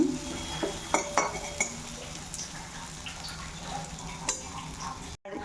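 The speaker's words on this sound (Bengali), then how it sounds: "এই যে দেখো এটা একটা পোস্তর বড়া ভেজে নিচ্ছি" Poppy seed fritters (posto bora) fry in a pan, with a soft sizzle under irregular clinks and scrapes of stirring and a few louder knocks, and a brief dropout near the end.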